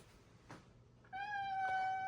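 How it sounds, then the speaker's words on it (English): A cat meows outside a closed door, wanting to be let in: a faint earlier sound, then one long, clear, drawn-out meow that rises and holds steadily to the end, heard alone without talk. "There's a cat outside the door. He wants to get in"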